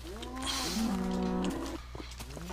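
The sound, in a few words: cows mooing in a video game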